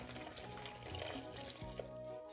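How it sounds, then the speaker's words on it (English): Faint running water is poured a little at a time into a mixture for Eritrean vegan kicha fit fit with silsi, trickling quietly with a few soft splashes and light clinks. "I'm gonna just add a little bit of water at a time."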